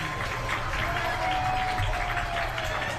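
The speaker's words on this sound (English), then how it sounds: "Giving a round of applause to our Jeffersonville High School band team." Steady, dense crowd applause in a football stadium for a high school marching band leaving the field, continuous and even in loudness throughout with broad outdoor noise.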